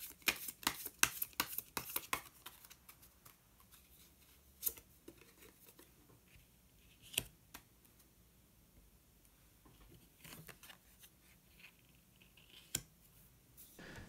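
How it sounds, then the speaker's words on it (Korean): A tarot card is drawn from the deck: a flurry of crisp card shuffles and snaps at first, then sparse isolated flicks and taps of cards against a quiet room. "한 장의 카드를 더 뽑고 이야기 계속 나오도록 하겠습니다"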